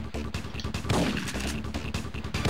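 Rapid bursts of gunfire in the video game Syphon Filter 2, dense and crackling, several shots in quick succession at moderate volume.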